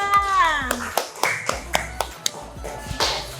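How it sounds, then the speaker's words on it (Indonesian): A classroom of students claps for a presenting group, a short burst of scattered, overlapping claps following a high-pitched voice, with talk continuing over the clapping. "Tepuk tangan dulu untuk kelompok 2."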